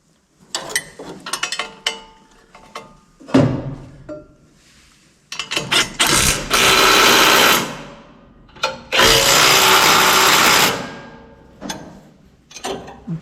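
A power tool tightens a bolt on an Oliver 1550 or 1650 tractor, in several whirring bursts that start and stop, with two longer loud runs in the middle and short quiet gaps between.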